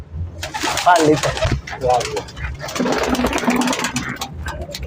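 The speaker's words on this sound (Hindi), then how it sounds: "सियालकोटी कबूतर है जी हमद भाई, देख रहे हो, जबरदस्त जोड़े वाला कबूतर है।" Sialkoti pigeons at a pigeon market in Shahdra give repeated throaty coos, close by, over a mechanical hum, with people talking nearby.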